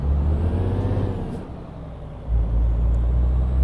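A truck engine rumbles loudly in Euro Truck Simulator 2, driving an Iveco Hi-Way, dipping briefly before surging back with a heavy thump from a collision from behind, and a hiss like an air brake.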